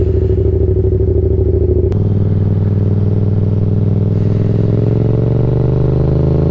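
A motorcycle ridden at night, heard from the rider's helmet, with a loud steady engine drone and low rumble that shifts pitch slightly as it accelerates, under constant wind noise.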